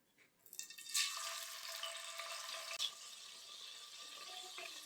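Garlic and onion paste goes into hot oil for a bean seed curry, a soft onset followed by a faint, steady hissing sizzle with an occasional crackle, heard alone and fairly quiet.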